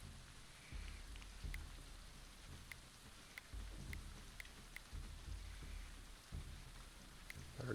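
Steady rain falls across a medieval settlement in the colony survival game Going Medieval, a soft continuous wash with faint scattered drips and occasional low rumbles underneath, no voices.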